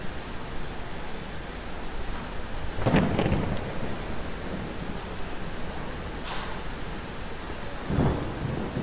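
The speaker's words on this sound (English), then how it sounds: "in the rain we walk, guys. Look how beautiful this is. Stormy skies." Rain and a thunderstorm in the video game Skyrim: steady rain hiss throughout, with rumbling thunder cracks near three and eight seconds and a brief sharp crackle in between.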